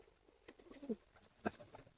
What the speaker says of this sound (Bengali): আমার লক্ষাগুলো খুব প্রিয় কবুতর আমার খুব ভালো লাগে সেটা হচ্ছে লক্ষা কবুতর